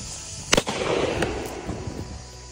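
A single sharp gunshot from a Henry .45-70 Government Side Gate brass lever-action rifle firing 180-grain bullets, a loud crack followed by a brief rumbling decay, with a fainter second report after it.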